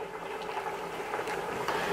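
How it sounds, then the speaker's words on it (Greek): Hot water poured into cuttlefish ink for a Greek cuttlefish-with-spinach dish, a steady close hissing trickle with soft splashy patter running the whole two seconds, no talk. "Μέσα στη μελάνη θα προσθέσουμε λίγο ζεστό νερό"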